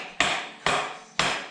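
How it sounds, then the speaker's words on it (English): Three sharp, evenly spaced blows from a rubber mallet strike the stuck rear axle of a KX450F supermoto motorcycle, each a loud close thud that rings and decays before the next. "do it with like a rubber mallet."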